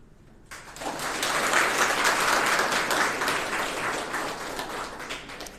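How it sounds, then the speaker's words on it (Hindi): An audience applauds at a felicitation ceremony for selected railway NTPC students, with loud, sustained clapping that starts abruptly and continues steadily at close range. "ताली बजती रहनी चाहिए,"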